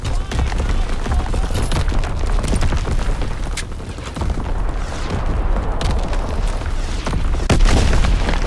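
Artillery barrage explosions in the Call of Duty WWII video game, in a 1944 Shipment map domination match: a dense, loud, continuous rumble of booms and blasts with sharper bursts piling over one another throughout.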